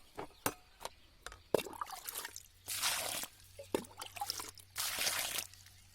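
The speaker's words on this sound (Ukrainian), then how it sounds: "кожну ямку наливаю воду" Water pours in two short gushes into a planting hole in soil for watermelon seedlings, between scattered drips, scrapes and small knocks nearby.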